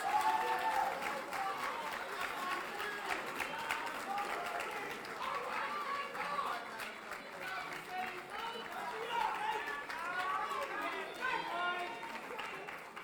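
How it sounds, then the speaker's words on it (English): Applause at a Black College Queens competition, with sustained clapping and cheering mixed with crowd chatter and voices throughout, steady and moderately loud. "They deserve all the applause."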